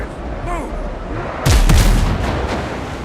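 Ship cannons boom in the pirate sailing game Windrose, a heavy volley of loud overlapping blasts erupting midway through and rolling off, with ambient sea and wind noise before it.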